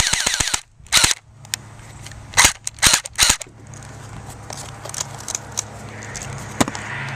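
Toy H&K MP7 replica gun fired outdoors at a tree, sharp snapping shots in short bursts and singles, loud and close, with quiet gaps between.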